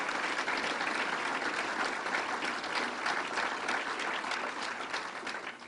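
Audience applause for Mayor Walsh at a state fair announcement, a steady burst of crowd clapping that holds strong and begins to taper near the end.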